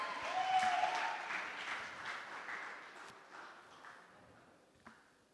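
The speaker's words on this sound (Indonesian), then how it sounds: "Tepuk tangannya" Audience applause at an evening closing ceremony for a book-appreciation event, starting full then thinning out and fading over several seconds, fairly quiet and distant, with a single louder clap near the end.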